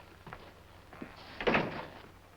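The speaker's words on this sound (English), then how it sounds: "Close the door." A door pulled shut indoors in a radio drama setting, a soft shuffle followed by a firm close and brief rattle, fairly quiet and alone without talk.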